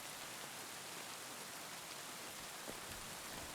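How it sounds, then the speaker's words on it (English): Rain in Kingdom Come Deliverance 2, a steady, even hiss of falling drops that continues without a break, moderately loud and with no voices over it. "Yeah, and the rain isn't helping either."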